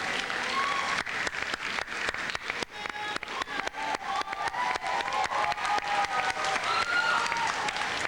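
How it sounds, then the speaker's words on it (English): A graduation crowd at Harrison High School in New York applauds the graduates' parents, with steady dense clapping that builds and holds loud and close, along with some cheering, and no talk over it. "So just a round of applause for your parents"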